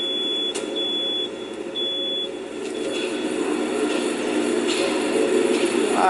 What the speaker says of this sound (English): Oh, alarms inside the abandoned movie theater.